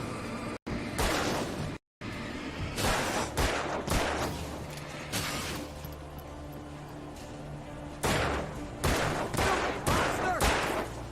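Gunfire in the game Alan Wake, a series of sharp loud shots in irregular bursts over eleven seconds, with two brief silent cuts near the start and a rapid cluster of shots toward the end.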